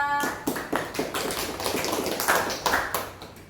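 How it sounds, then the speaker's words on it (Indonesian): Classroom applause for a student's answer, a burst of scattered claps and taps from pupils that fills the room evenly for several seconds. "Berikan aplaus untuk Vita."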